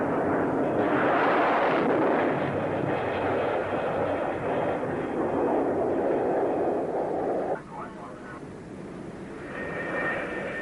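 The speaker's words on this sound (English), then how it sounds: "the Phantom is hurled down the catapult run and over the bow of the carrier" An F-4B Phantom II jet is catapulted off the aircraft carrier USS Forrestal, a loud, sustained roar of jet engines that holds steady for several seconds and then drops off sharply, leaving a quieter rumble.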